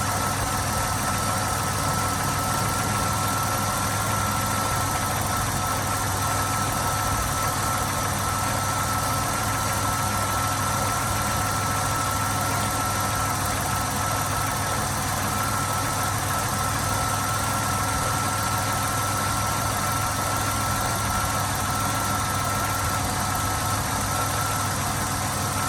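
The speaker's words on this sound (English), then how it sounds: "I'm going to stop talking for a moment and let you listen to the engine," A 1990 Chrysler TC by Maserati engine idles steadily for the whole stretch, a continuous low rumble with faint mechanical vibration and no voices.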